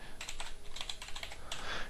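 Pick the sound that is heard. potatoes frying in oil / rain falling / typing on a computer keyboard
typing on a computer keyboard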